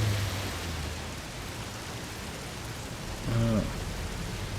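Steady rain hisses through a video game scene with motorcycles, an even wash of noise throughout, and a short tonal game sound swells briefly near the end.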